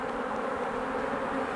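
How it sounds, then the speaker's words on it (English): Dense, steady buzzing of many honey bees around a Hyde Hive queen rearing nuc being divided with a divider board, a continuous close swarm hum with no talking. "you're going to have bees flying out, trying to get into different entrances"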